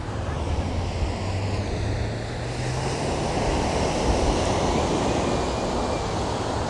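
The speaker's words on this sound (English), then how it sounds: "My voice is just having to speak over the waves." Ocean surf breaking on a beach, a steady broadband wash of rolling waves with wind noise over the microphone, continuous and fairly loud throughout.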